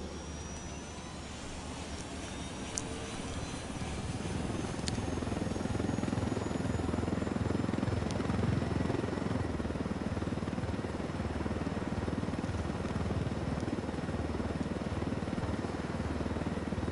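Aircraft engine drone in Ghost Recon Wildlands: a steady, loud rotor-like rumble and whine that builds after a few seconds and holds evenly throughout, with no talking.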